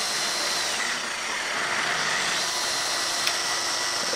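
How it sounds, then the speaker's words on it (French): A jigsaw runs steadily and loudly the whole time, its buzzing motor cutting through wood without a break. "il ne vous reste plus qu'à couper jusqu'à arriver au bout"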